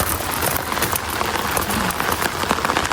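Rain falling outdoors, a dense, steady patter of drops striking surfaces, close and fairly loud with no talk.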